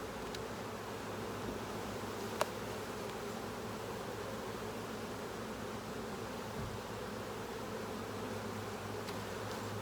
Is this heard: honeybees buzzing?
yes